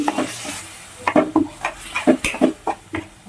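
A spoon stirs spicy misal masala with a splash of water in a pan, giving rhythmic metallic clinks and scrapes up close with no voices.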